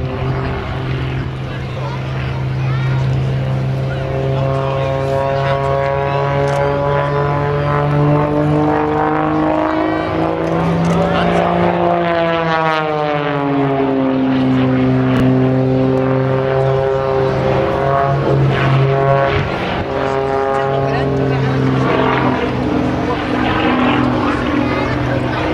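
A propeller aerobatic aircraft performing an airshow display, its loud continuous engine drone rising and falling in pitch as it maneuvers, with a commentator talking over it.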